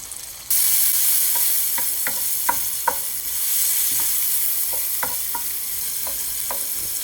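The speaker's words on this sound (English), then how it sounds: "We're just gonna let the burger cook for 3 minutes." Burger patties frying in a pan with olive oil, soy sauce and onions over medium heat, a steady broadband sizzle running throughout with a scattering of soft clinks and taps from stirring, no voices.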